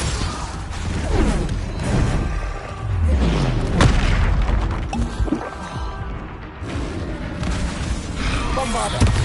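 Spell explosions from Bombarda and Confringo in the game Hogwarts Legacy, a run of loud, deep booming blasts and crashes with rumbling tails, close and dense, interleaved with bursts of impact noise.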